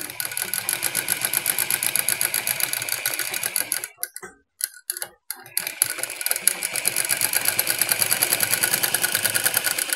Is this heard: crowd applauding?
no